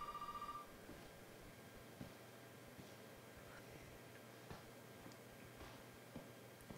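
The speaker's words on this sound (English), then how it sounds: "Hey, the phone stopped ringing," An old telephone in the Resident Evil 7 video game rings faintly for a brief moment and then cuts off, leaving a quiet, hissy room with scattered soft ticks and taps.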